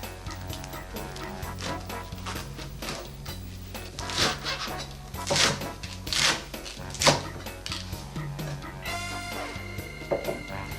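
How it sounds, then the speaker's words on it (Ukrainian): A knife chops lettuce leaves coarsely on a board, with a handful of irregular soft thunks over steady background music. "Починаємо з салата. Нарізаємо його не дуже дрібно."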